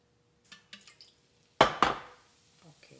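A few drops of water hit a very hot dosa tawa and burst into a sharp, loud sizzle that fades quickly, preceded by faint light taps and followed by soft clinks.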